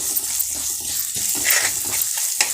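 Steady, dense sizzling from a pan frying on medium-high heat, close by and continuous, with faint clinks of stirring and no talking.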